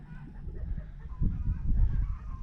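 Chickens making soft, low honking clucks in short irregular bursts, fairly faint and close, with wind-like background noise around them.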